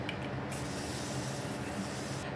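Makeup setting spray hisses steadily from a spray bottle, a continuous close airy mist that runs for a couple of seconds and ends in a small click.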